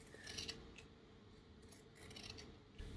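Scissors snipping through old denim jeans right beside the seam, a close, dense crunching cut with a few sharper clicks, no voices.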